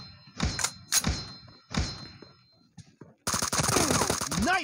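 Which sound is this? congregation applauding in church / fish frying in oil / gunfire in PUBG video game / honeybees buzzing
gunfire in PUBG video game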